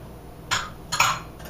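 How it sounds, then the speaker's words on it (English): A utensil stirs flour, baking soda and cream of tartar together in a bowl, giving two or three brief scraping clinks in close succession. "And I'm just going to stir that all together."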